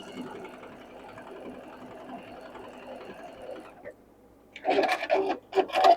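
A sewing machine stitches fabric pieces for a sewing-room wall clock, running in a steady close whir for several seconds before stopping, followed by a few louder bursts of handling noise.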